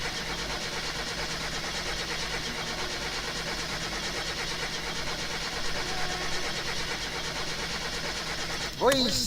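Steady mid-pitched engine drone from a car in the game My Summer Car, an engine running without oil that will not start, continuing unbroken for several seconds before a brief louder burst near the end.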